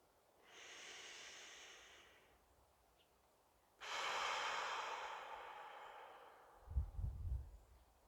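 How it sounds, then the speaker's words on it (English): Two slow, deep breaths, each a long airy inhale and then a long exhale, soft and close in a quiet outdoor setting, ending with a brief low rustle. "Nice deep breath in, and maybe for a moment just close your eyes."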